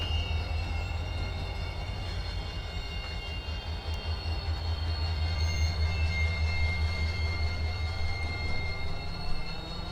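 Freight cars being humped at Conway Yard give off a steady, heavy low rumble that slowly builds, with faint high squeals threading above it and a single light knock near the end, all without voices.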